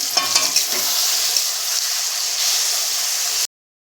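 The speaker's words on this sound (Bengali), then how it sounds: "চিকেনটা দিয়ে এবার একটু মশলাটা নিয়ে এবার ভাজবো একটু। এবার একটু ভেজে নিই।" Chicken fries with spices in a pan, a loud bright sizzle with quick stirring scrapes at the start, then steady hissing that stops abruptly.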